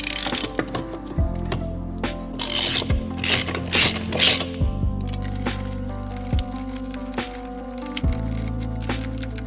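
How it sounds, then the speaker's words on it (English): A socket wrench snugging up the lug nuts on a trailer wheel after a wheel bearing repack, giving a series of sharp ratcheting clicks and metallic clanks at close range, with no talk. "Snug these lug nuts up with a socket wrench or your lug nut wrench as hard as you can"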